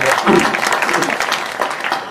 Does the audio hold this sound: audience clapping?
yes